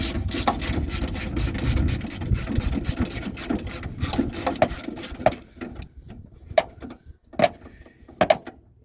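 Wrench working a screw loose on the door of a 1996 Honda Civic, with dense mechanical clicking and rattling at first, then a run of separate sharp metallic ticks spaced apart near the close.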